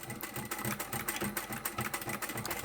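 A sewing machine back-stitches an elastic strap onto a fitted bed sheet, running in a fast, steady mechanical chatter of rhythmic needle strokes, close and continuous throughout.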